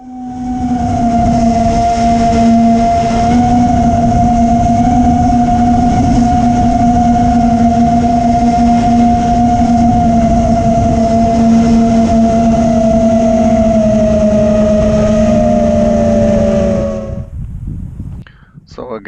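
A quadcopter drone flies in the wind with a swapped battery, its motors holding a loud, steady, tonal whine that runs almost unbroken before cutting off near the end.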